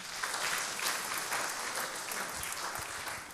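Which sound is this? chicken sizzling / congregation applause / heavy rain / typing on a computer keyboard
congregation applause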